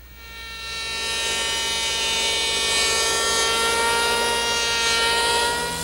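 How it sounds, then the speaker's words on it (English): A handheld electric power plane smooths a wood edge while building an armoire entertainment center, its motor spinning up into a loud, steady whine that holds without voices. "to smooth that out, I'm going to use my handheld power plane."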